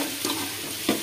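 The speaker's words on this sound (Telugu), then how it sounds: "దీనికి ముందుగా బాండీ పెట్టుకొని దాంట్లో కొంచెం ఆయిల్" Tempering spices sizzle in hot oil in a kadai, with a low frying hiss broken by two short, close stirring bursts, and no speech.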